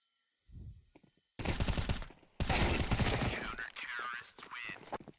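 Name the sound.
MP9 gunfire during a push in a video game match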